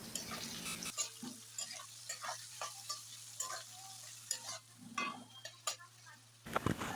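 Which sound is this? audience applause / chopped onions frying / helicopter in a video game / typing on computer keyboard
chopped onions frying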